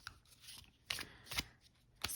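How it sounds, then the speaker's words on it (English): A small, new deck of Lenormand cards is overhand shuffled by hand, making soft papery riffles in a few quick, uneven bursts with brief pauses between them, close and fairly quiet. "Super easy overhand shuffling"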